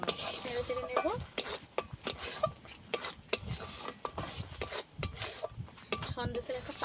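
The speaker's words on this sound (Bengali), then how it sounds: "অনবরত নেড়ে ছেড়ে এটাকে ভালো করে শুকিয়ে নিতে হবে, কিন্তু অল্প জ্বালানি, হালকা আঁচে এটাকে করতে হবে।" A spatula scrapes continuously through mango sandesh mixture in a pan over low heat, making rapid, rhythmic rasping strokes close up with brief pauses between bursts.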